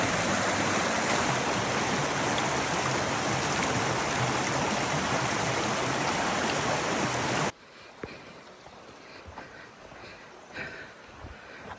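Rushing river or creek on the Black Forest Trail, a loud, dense, steady flow of water for most of the time before cutting abruptly to quiet, faint outdoor sounds.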